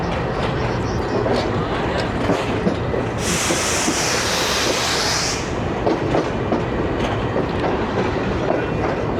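A Pakistan Railways train pulls out of the Lahore Junction yard with a steady, loud rolling rumble and clickety-clack of wheels, plus a sustained high hiss or squeal for a couple of seconds midway.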